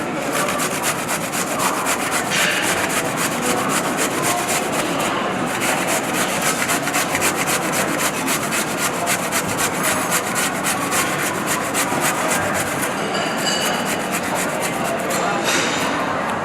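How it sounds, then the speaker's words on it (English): A carrot rasped steadily against a grater in rapid, continuous back-and-forth strokes, loud and close, with no break for the full length. "we're just going to grate the carrot"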